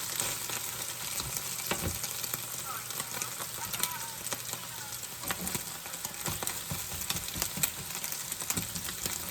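Eggs fry crispy on top in a pan for fried rice, giving a loud, continuous crackling sizzle with scattered pops and spatula scrapes throughout.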